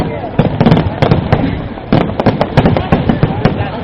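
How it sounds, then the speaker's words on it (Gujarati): Rapid bursts of fireworks at the 2009 Kankaria Carnival crackle and pop in quick, uneven clusters, loud and close, with faint voices mixed in beneath the bangs. "સુંદર આતશબાજી"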